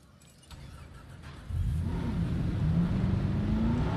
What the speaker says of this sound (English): Let's get in the Ranger vehicle.